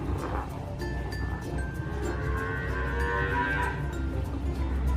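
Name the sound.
cows mooing from a cattle farm behind the house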